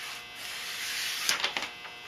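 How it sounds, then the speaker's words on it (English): Homemade 12-inch disc sander with 120-grit paper running with a steady high whirring hum, a few brief scratchy contacts near the end, close and fairly even, no talk. "I just had my first test run of the disc sander"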